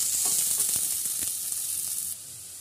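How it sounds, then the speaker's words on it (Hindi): Curry leaves, onion and capsicum sizzle steadily in a hot pan, with a few soft stirring knocks; the frying hiss stays constant and close, then drops slightly near the end. "इसमें हम डालेंगे करी पत्ता और इनको अच्छी तरह से ट्रांसपेरेंट होने तक भून लेंगे।"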